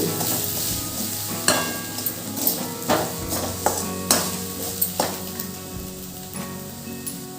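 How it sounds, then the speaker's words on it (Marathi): Ragi rava upma is sautéed in a pan, a continuous sizzle broken by regular scraping strokes and clinks of a spatula as it is stirred, close and moderately loud. "आता हे सर्व आपण परत थोडंसं परतून घेऊ"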